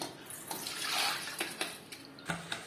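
Soaking water drains from raw rice, a close splashing pour rising and falling with light clinks of a vessel, no voices.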